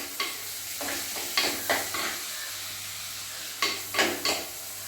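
Green chilli, ginger and curry leaves sauté with spice paste in a pan for a homestyle Kerala fish curry: a low, steady sizzle punctuated by several scraping stirs in uneven clusters, close-up and fairly quiet, with no voices.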